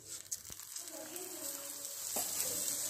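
Paneer mixed-veg paratha roasting on a hot pan over low-to-medium flame after oil is added, a soft steady sizzle with a few brief pressing and flipping knocks, close and fairly quiet.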